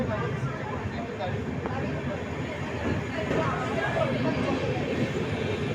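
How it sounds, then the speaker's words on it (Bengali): The Padatik Express pulls out of Bardhaman Junction with a continuous low rumble and rolling noise heard from on board, with voices and chatter mixed in. "ট্রেন আমাদের বর্ধমান জংশন ডিপার্ট করলো"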